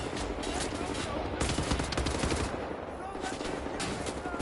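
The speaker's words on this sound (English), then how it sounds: "For the run-of-the-mill machine gun or submachine gun or assault rifle" Rapid automatic machine gun fire from the shooter game Wolfenstein: The New Order rattles in dense sustained bursts with short pauses, mixed with game effects and a voice talking over it.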